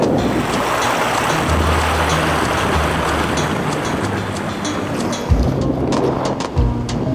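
A small river rushing through a mountain valley, a loud broadband wash of flowing water heard steadily and close, with a few faint knocks near the end.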